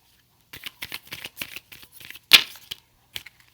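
Tarot cards riffle and slap together in a series of quick, light shuffles, close and fairly soft, with one sharper snap near the middle and short pauses between bursts, no talking.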